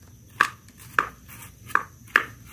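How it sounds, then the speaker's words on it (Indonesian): A knife chops tender bamboo shoots into small pieces on a board, four crisp, evenly spaced cuts close by with no talk. "ini saya rajang saja kecil-kecil karena ini rebungnya sangat empuk"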